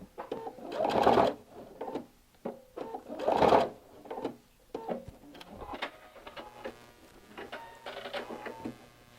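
A sewing machine back stitches across a quilted table runner in short, close runs of clicking, whirring stitching, with two louder bursts early on and quieter taps and clicks between.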